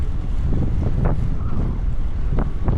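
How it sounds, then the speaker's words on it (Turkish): Strong winter wind in Marmaris, Turkey, buffets the microphone in loud, gusty roars, with brief sharper gusts rising and falling throughout. "Rüzgar bu arada fena."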